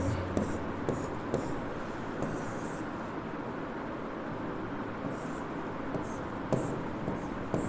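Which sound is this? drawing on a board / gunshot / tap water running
drawing on a board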